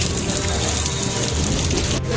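Heavy monsoon rain pours down in a steady, unbroken hiss that holds at an even level throughout, with no voices heard.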